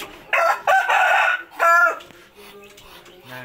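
Bangkok rooster crowing up close, loud drawn-out calls in two bursts, followed by softer clucks and farmyard sounds.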